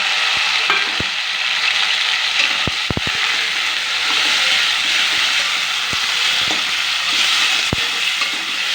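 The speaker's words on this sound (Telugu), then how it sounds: "ఉల్లిపాయలు టమాటాలు కట్ చేసి పెట్టుకున్నా, ఇవి నూనెలో వేసి వేయించుకోవాలి." Chopped onions and tomatoes frying in oil for a spiced brinjal curry, a loud steady sizzle close up, punctuated by sharp clicks and knocks of a utensil stirring the pan.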